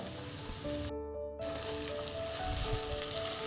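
Chopped okra (ladies finger) sizzles steadily in a pan with onions, a dense close frying hiss that cuts out briefly near the start and then resumes, with faint low clatter underneath and no talking.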